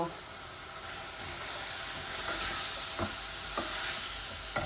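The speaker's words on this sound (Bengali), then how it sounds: "এই পেঁয়াজগুলো আর একটু ভাজা ভাজা হোক" Soft, steady sizzling of onions frying in a pan, with a few light scraping stirs and a faint voice in the background.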